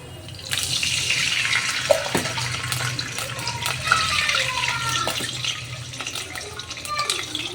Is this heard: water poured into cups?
yes